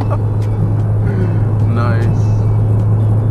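2006 Honda Civic Si driving on the road, a steady low engine rumble and road noise throughout, close and constant with no clear revving.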